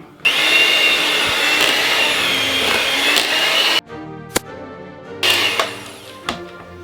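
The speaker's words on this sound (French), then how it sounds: "On mixe en l'air pour dégager le beurre à l'ail" An immersion blender fitted with a whisk whips homemade garlic butter, a loud continuous whirring drone for several seconds, then cutting off into scattered clicks and short bursts of the motor.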